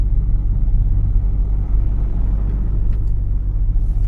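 Steady, loud low rumble of a truck rolling along a road toward Germany, a continuous engine drone with road noise throughout and no voices.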